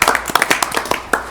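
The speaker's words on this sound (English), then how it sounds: "Can we give Madam Chair a round of applause?" Meeting attendees at a Texas appraiser licensing board session applaud, producing a sparse, loud run of separate handclaps from a small group, close and irregular, with no talk over them.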